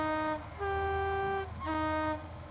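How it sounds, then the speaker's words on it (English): A multi-tone train horn on the MPV multi-purpose vehicle in Train Simulator Classic sounds in two clear blasts, the first about a second and a half long and shifting pitch partway, followed by a shorter second blast. "one of the nicest horns I've heard in TS"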